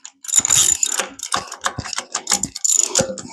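A socket ratchet clicks in short bursts while rocker arms are adjusted on a big block Chevy engine, close and crisp with brief pauses between rapid pawl clicks.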